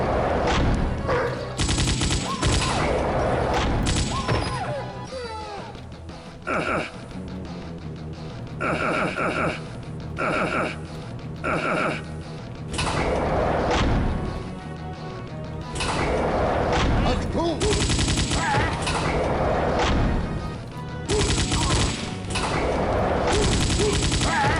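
Gunfire in the Macintosh version of Wolfenstein 3D, loud repeated bursts of shots and thuds with brief pauses, alongside door-like sliding sounds and game effects.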